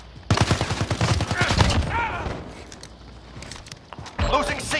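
Rapid bursts of automatic gunfire in Call of Duty Modern Warfare crackle up close, a dense volley at the start, a brief lull, then another burst at the end.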